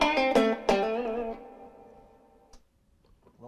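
Guitar strums through an Orange CR120H amp with hall reverb engaged: a few distorted chord hits ring out, then a long reverberant tail decays into near silence with faint handling ticks at the end.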